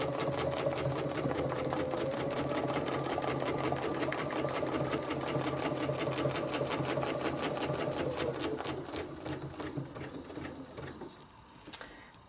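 A sewing machine stitches a quilt with a fast, steady mechanical whirr and rapid needle clatter that slows and stops near the end, followed by a small click.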